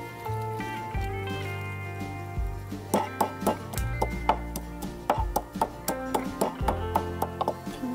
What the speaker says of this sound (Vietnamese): Gừng má giả nhuyễn xong nè.